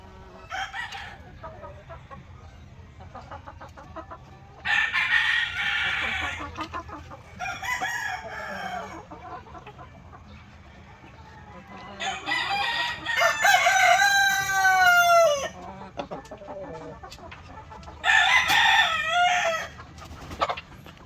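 A rooster crows loudly several times on a small Philippine egg farm with many laying hens, with brief clucking bursts and quieter chicken chatter filling the gaps between calls.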